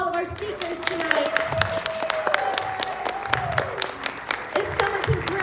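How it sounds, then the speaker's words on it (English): An audience at a civic center talk event gives a steady round of applause for the speakers, dense clapping at moderate distance with a tonal sound running underneath. "Please give a round of applause to all of our speakers tonight."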